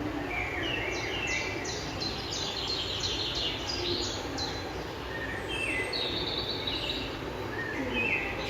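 Small birds chirp in quick repeated tweets over a faint steady background hiss, played as a sound to be identified in a classroom guessing game.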